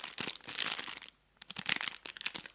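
Close, crackly crumpling of paper in dense bursts, pausing briefly in the middle before the crinkling resumes.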